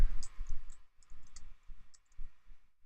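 Quiet, irregular keystrokes as someone types a CAPTCHA on a computer keyboard: a dozen or so light, close clicks in uneven bursts with short pauses between.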